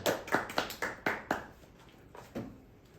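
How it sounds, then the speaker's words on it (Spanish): At a congregational worship service, about ten sharp handclaps land in a quick, even rhythm, then thin out into a few softer, scattered claps. "Y podemos batir las palmas, aleluya."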